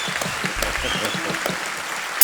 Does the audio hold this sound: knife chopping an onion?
no